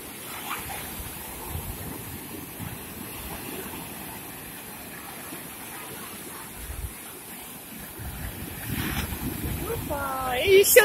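Storm sea waves wash and rumble steadily on the beach at Karolino-Buhaz, with strong wind buffeting the microphone, swelling louder toward the end; faint voices in the background.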